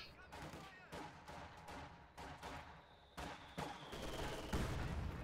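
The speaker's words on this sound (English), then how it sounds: "Grenadiers take a nasty hit from the 120mm mortar" A 120mm mortar shell strikes Grenadiers in Company of Heroes 2 amid a string of sharp gunfire cracks and thudding impacts, ending in a heavier low-end blast, with faint background battle noise.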